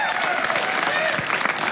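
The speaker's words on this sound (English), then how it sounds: "Golf clap." A studio audience at a hard rock and heavy metal talk show gives a steady round of applause, loud and sustained, with a voice talking over it.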